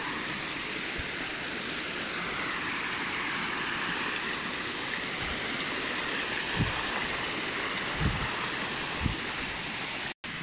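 A waterfall on Braemar Hill in Hong Kong rushes in a continuous dense roar, close and loud, with a few faint knocks near the end.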